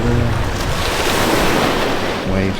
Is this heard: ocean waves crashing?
yes